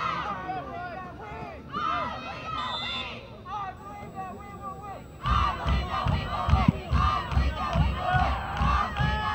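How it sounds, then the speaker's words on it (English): Supporters at a 2015 men's college soccer match between North Greenville and Columbia International, with the game tied late, raise a loud, sustained rhythmic crowd chant and cheer that swells partway through and stays dense and energetic to the end. "I think the Rams have brought their own cheering squad up by 26."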